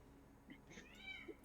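A loud house cat meows nearby in a couple of short, wavering calls, with faint background murmur beneath.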